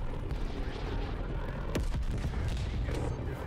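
MP5 submachine gun firing in Call of Duty: Black Ops Cold War: dense, loud, rapid automatic fire runs through the whole stretch with barely a break, mixed with a sharp impact near the middle and a faint voice underneath.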